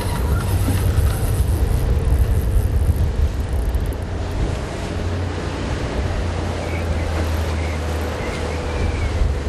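A fishing boat's engine runs hard at full throttle on open sea, a steady loud low drone mixed with wind buffeting and rushing water, its pitch shifting slightly partway through.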